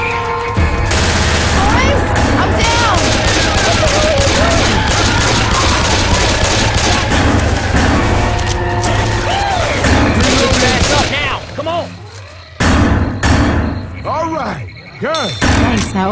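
Rapid gunfire in the Left 4 Dead 2 swamp level, dense continuous volleys of shots with thuds, loud and close, briefly dropping out near the end before more bursts, with voices mixed in.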